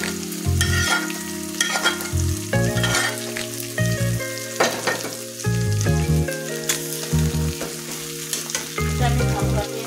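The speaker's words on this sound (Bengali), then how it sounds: "মাছগুলো আমি পেঁয়াজের উপর সুন্দর করে ছেড়ে দিচ্ছি।" Fresh river fish frying on a bed of onions in a pan, a loud continuous sizzle broken by clattering stirs and scrapes, with music playing throughout.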